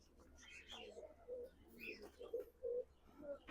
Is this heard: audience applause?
no